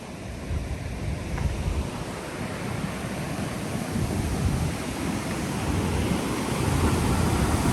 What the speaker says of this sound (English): Ooh, that water's moving quick